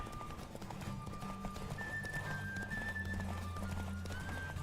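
Steady hoofbeats of a galloping horse in the video game The Witcher 3 drum on continuously, with a low rumbling background and a thin whistling tone drifting above.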